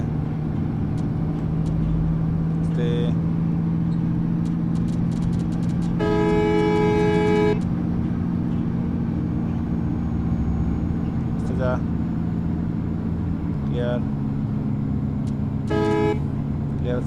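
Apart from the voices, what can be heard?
Sakura bus engine pulling hard on the road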